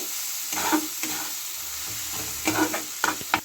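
Spice masala with coriander leaves is stirred and sautéed in oil for a small-fish curry, giving a soft sizzle under repeated scraping strokes of a spoon against the pan, close and without talking.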